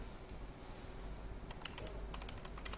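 Soft computer keyboard typing, faint and distant, a few scattered key clicks over a steady background hiss, no voices.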